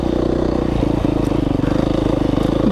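A dirt bike with a shaved-down throttle body runs steadily on an Idaho singletrack trail, its dense, low-pitched engine drone loud and close throughout with a slight rev change near the end.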